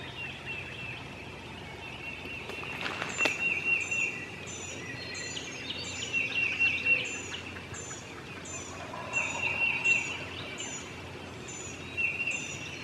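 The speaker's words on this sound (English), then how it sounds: "There's a pile of turkeys gobbling over there, but we can't go." Distant wild turkeys gobble in several rolling bursts across a busy outdoor backdrop during spring turkey hunting in Illinois, with steady insect-like chirping and other birds calling throughout.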